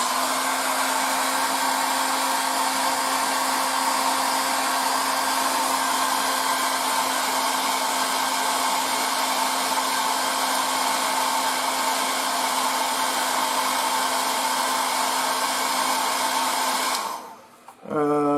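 A steady, loud airy hiss with a constant tonal hum runs without pause while paint is airbrushed onto a Takom Type-69-II 1:35 scale tank model, cutting off abruptly near the end.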